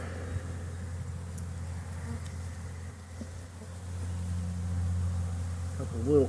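Steady droning hum of honeybees swarming over an open hive as brood frames are worked during queen rearing, continuous and close with a low buzzing mass, faint background noise and no clear speech.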